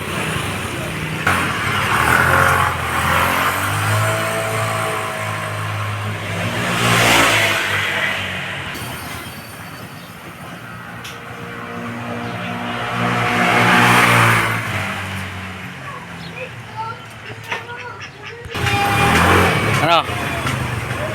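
A Suzuki Skydrive scooter fitted with an alternative carburetor and airbox on a road test, its engine revving up and easing off through several strong pulls, loud and close.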